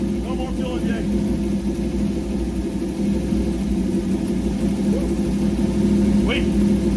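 A 1932 Ford Roadster engine running on four IDF carburetors rumbles at a steady idle, loud and close, with a constant low throb for the whole stretch.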